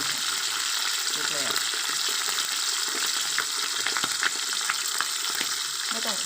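Mackerel frying in hot oil until crisp, a dense, steady sizzle with bursts of popping and crackling that stays loud and close throughout, with no one talking.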